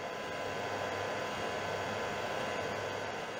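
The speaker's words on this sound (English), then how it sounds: "Give it a wee blast with the old hairdryer." A hair dryer drying acrylic paint blows steadily at close range, a constant whooshing hiss with a low motor hum throughout.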